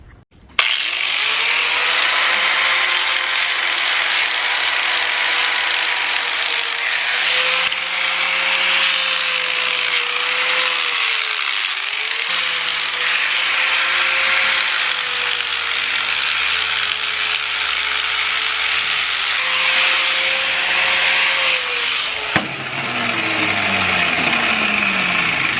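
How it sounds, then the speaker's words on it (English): A metal engine part being ground down to fit gives a loud, continuous whining grind with a wavering pitch, close by, briefly dipping and resuming, ending with a sharp clunk and a winding-down whine. "we're going to have to grind this side and that side till it fits over"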